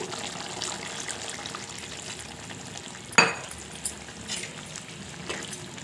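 Okra curry simmers in a pan with a soft, steady bubbling hiss, broken by a few sharp knocks and scrapes of stirring partway through.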